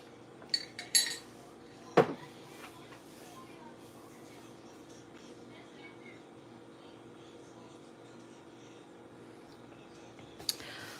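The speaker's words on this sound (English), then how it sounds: "let me get the pan" A pan is fetched and handled in a home kitchen, with a few sharp metallic clinks and one loud clank early on, then a quiet stretch and one more clink at the end.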